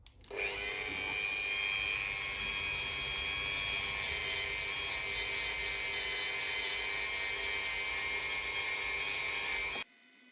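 Rotary tool polishing jewellery in a small jeweller's studio: a steady, loud high-pitched whine running continuously for about nine seconds, then cutting off abruptly near the end, with no talking.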